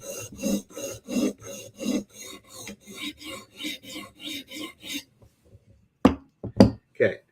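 A knife blade is drawn across a sharpening stone in a steady rhythm of about a dozen close rasping strokes, followed by a short pause and a few sharper scrapes and knocks.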